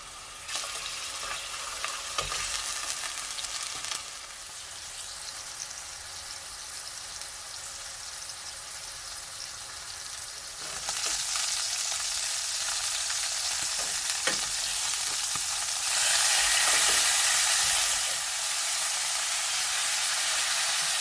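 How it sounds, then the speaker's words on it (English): Beef ribs searing in about a quarter cup of hot oil over medium-high heat, giving a steady, dense sizzle and spatter that swells louder near the end, with no voices. "Okay, so my ribs are seared and browned very well."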